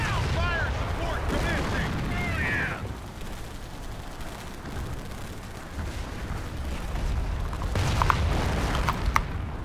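Artillery fire from a World War II fire mission in the real-time strategy game Company of Heroes (2006), heard as heavy booms and rumbling impacts. A game radio voice speaks in places.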